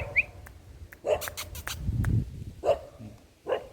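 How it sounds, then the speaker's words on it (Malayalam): A dog barks in a few sharp, separate outbursts at a hilltop viewpoint in Kannur district, fairly close and loud, with short gaps and a low rumble of wind or handling noise in between. "അതവിടെ കുറയ്ക്കാൻ തുടങ്ങി."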